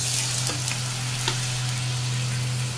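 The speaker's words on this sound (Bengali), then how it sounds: "ফোড়ন দিয়ে দিচ্ছি তেজপাতা, এলাচ আর লবঙ্গ, ধনে গুঁড়ো, জিরে গুঁড়ো, কাশ্মীরি লঙ্কা গুঁড়ো আর হলুদ গুঁড়ো দিয়ে দিচ্ছি" Ground spices sizzle loudly in hot oil in a pan with bay leaf, cardamom, clove, coriander, cumin, Kashmiri chilli and turmeric for a soybean curry. A steady close frying hiss carries a few faint stirring scrapes, with no voices.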